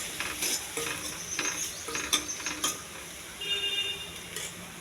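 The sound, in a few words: ginger garlic paste frying in a pan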